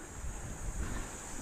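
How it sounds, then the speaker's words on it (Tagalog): Steady wind rushes over the microphone at a seaside rock fishing spot in the Philippines, a constant low roar with no voices. "Medyo mahangin na ata dito ah."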